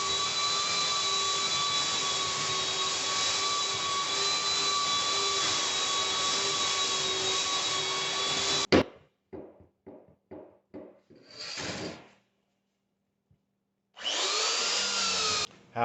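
A belt sander grinds steadily against mobile home wall panels, a loud continuous whine for about nine seconds, then cuts to a series of short sanding bursts, a pause, and the motor starting up again.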